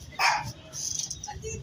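A dog barks once or twice in a short, sharp burst during a community visit, followed by faint voices and movement nearby.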